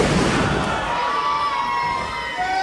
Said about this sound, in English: Crowd screaming for an RKO.